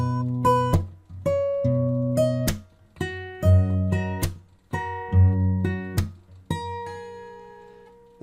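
An acoustic guitar slowly plays two bars of a song, fingerpicked notes and chords ringing in clear, unhurried phrases. Percussive slaps fall between the notes. The playing is close and solo, with no talking.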